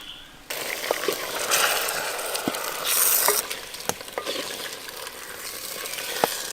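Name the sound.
stirring chicken and spice paste in clay pot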